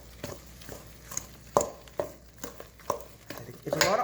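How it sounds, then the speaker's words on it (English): Chocolate quick bread batter with melted butter is mixed by hand in a bowl with a spoon, making a series of soft, irregular knocks and thick squelches close by. "What I want to do is I want to mix this up."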